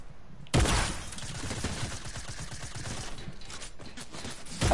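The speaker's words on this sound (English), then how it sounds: "I hear the gunshot" Rapid bursts of video game gunfire crackle continuously after a brief quiet start, dense and loud like sustained automatic fire.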